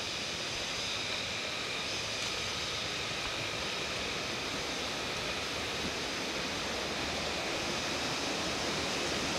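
Steady, dense roar of falling water fills the clip without pause, broad and hissing, like a waterfall heard from close range, on the Panday river in Kaymisas, Bailen, Cavite.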